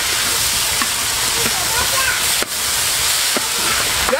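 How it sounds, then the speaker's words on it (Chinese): Prepared sauce hits stir-fried beef with ginger and garlic in a hot, oiled wok, producing a steady hiss and sizzle with faint clinks throughout. "再下入调好的酱汁"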